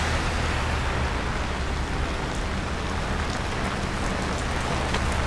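Steady rain pours onto a Manhattan street in New York City, a dense, even hiss of drops on pavement with a low rumble of traffic underneath, continuous and close, with no talking.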